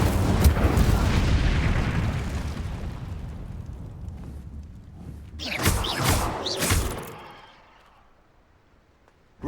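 An Incendio fire spell goes off in a Harry Potter video game, a deep, roaring blast that rumbles and fades, followed by a burst of sharper crackling booms before quieting.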